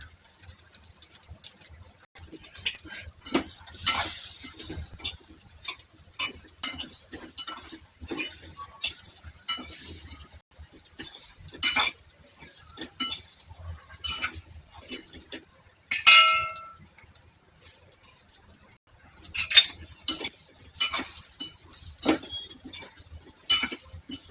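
Red chili powder and sugar mixed together in a bowl for tamtam masala, with scattered spoon clinks and scrapes at an uneven pace, close and fairly quiet.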